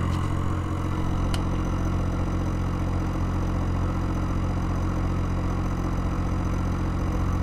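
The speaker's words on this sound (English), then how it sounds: "The motor gained a lot more power, and it's still outputting almost 200 milliamps." A looped-back pulse motor runs steadily with a constant low hum and a dense band of electrical whine, one brief sharp tick near the start, with no talk.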